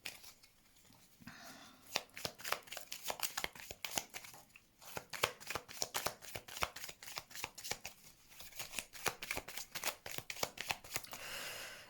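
Tarot cards are shuffled steadily for a reading, a dense run of close, crisp riffling flicks that continues without pause and without talk.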